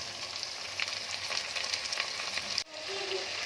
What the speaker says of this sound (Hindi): चिकन का कलर चेंज करने तक भी हम ना इसको थोड़ा सा फ्राई करेंगे